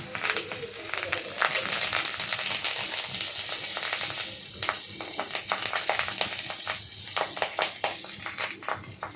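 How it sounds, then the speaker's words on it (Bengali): Banana-leaf parcels of jackfruit seed paturi sizzle and crackle steadily in a pan, with sharp pops and scraping clicks scattered over a continuous frying hiss, close and fairly loud. "আপনারা তারপর সেই যে বাঁধা কলা পাতাগুলো আস্তে আস্তে কড়াইতে রাখবেন।"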